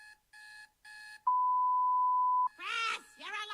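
An alarm clock goes off with three short repeated beeps, then a long unbroken tone, followed by a person groaning and a voice reacting over it.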